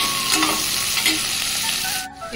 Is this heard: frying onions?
yes